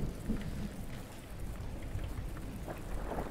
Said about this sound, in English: Until a terrible storm burst from the tower.